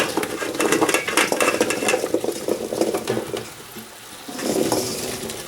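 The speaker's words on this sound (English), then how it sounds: "I'm just going to add the pumpkin." Cubed peeled pumpkin tipped into a pot of cooked onions, a busy close clatter and scrape of pieces and utensil against the pot, then a quieter moment and a renewed stirring rustle, with no voices.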